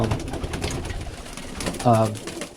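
Birmingham Roller pigeons coo inside a loft in midwinter, soft low throaty calls under a man's nearby speech, with one clearer rolling coo standing out toward the end.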